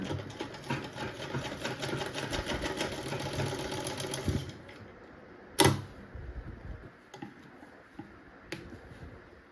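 A sewing machine runs a steady, fast stitch along the folded edge of a dupatta with a half-inch margin, loud and continuous for several seconds, then falls to light handling noises and a sharp click with no talk.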